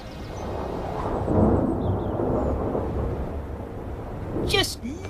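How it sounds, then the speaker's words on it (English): Storm wind blowing hard and rumbling with a thunder-like roll, loud and sustained over several seconds, with a brief higher noise near the end. "Just listen to that wind. There's a big storm on the way."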